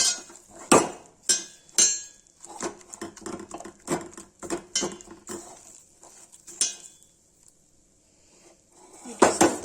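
Metal pan lifted off a gas stove while cooking nadru (lotus stem), with a run of sharp clanks and clinks, several close knocks in quick bursts, then a pause and a final pair of clatters.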